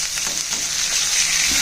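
Hilsa fish pieces fry in a pan, giving off a loud, dense and unbroken sizzle throughout, with no talking.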